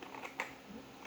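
A few crisp keystrokes on a Machenike K500A-B84 mechanical keyboard with a plastic case, one sharper click standing out among softer taps, quiet and close.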